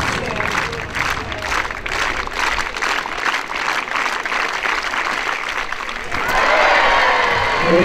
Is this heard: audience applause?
yes